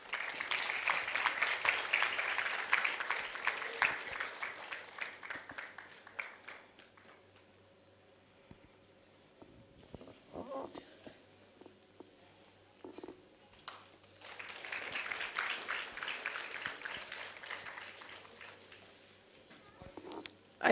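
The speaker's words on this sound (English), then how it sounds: "Big round of applause, please." An audience at a national seminar on psychology and homoeopathy applauding during a felicitation, two bursts of clapping several seconds long separated by a quieter stretch of faint shuffling and murmurs.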